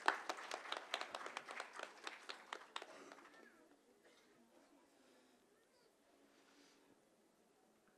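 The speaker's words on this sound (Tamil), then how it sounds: "உங்கள் பலத்த கைத்தட்டல் மூலமாக" An audience at a dance school's arangetram recital gives a faint, distant round of applause. It lasts about three seconds, then fades into quiet room tone.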